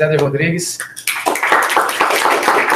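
Audience applause at a business presentation, a burst of many hands clapping that starts right after a man's short spoken line and continues steadily and fairly loud to the end.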